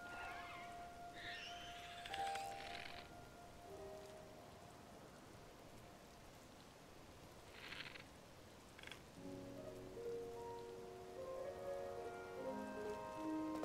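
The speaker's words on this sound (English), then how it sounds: "If this rain would just disappear." Light rain patters steadily on a surface, soft and distant, with a few faint tonal chirps scattered through and no voices.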